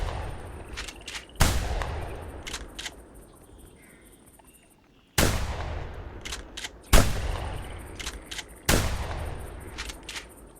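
Gunshots fired while duck hunting in theHunter Classic: four sharp, loud blasts at irregular intervals, each trailing off in a long echo across open marsh ambience.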